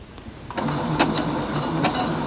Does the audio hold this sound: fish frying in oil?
no